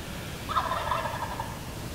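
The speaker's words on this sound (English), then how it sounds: "Turkeys started gobbling right off the roost" A wild turkey gobbles off the roost at dawn during a hunt, one rattling gobble carrying from a distance, moderately loud over outdoor background noise.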